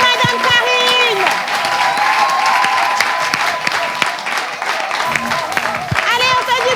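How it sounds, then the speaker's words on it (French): An audience at a lively French event gives an ovation, with sustained dense applause and whoops filling the whole stretch, while an amplified voice and music-like tones ride over the top. "Nous allons les accueillir avec des ovations, des applaudissements, des wouh"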